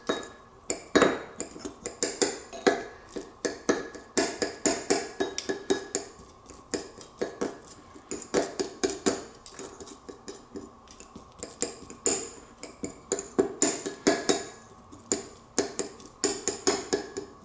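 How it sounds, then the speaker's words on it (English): A knife minces and mushes roasted garlic cloves on a cutting board, a rapid series of sharp tapping chops and scrapes in uneven bursts, close and clear, with no talking. "So I'm just kind of pulling it apart, mincing it, mushing it ahead of adding it to the mashed potatoes."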